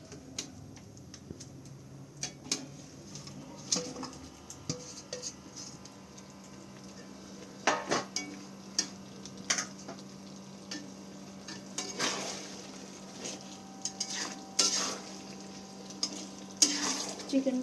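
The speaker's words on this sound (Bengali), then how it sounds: "তারপর ভেজে রাখা চিকেনগুলো এখানে আমি এক এক করে অ্যাড করে দেবো।" Fried chicken pieces drop into chili sauce in a pan and get stirred, giving a low sizzle under scattered spoon clinks and taps that come in irregular bursts, louder toward the end.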